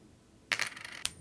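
Coin flip effect from the video game Unfair Flips: a bright metallic ring at mid-clip, then a second sharp clink a moment later, close and clear with no talking.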